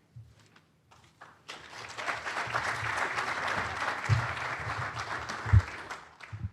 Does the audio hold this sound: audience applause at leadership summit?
yes